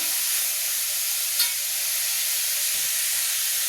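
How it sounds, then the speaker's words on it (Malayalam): Sliced onions with salt sautéing in a pan for a chicken curry, a continuous bright hiss of frying near and steady, with faint low rumbles underneath and no talking. "സവോള നന്നായിട്ട് വഴന്ന് വരുന്നുണ്ട്"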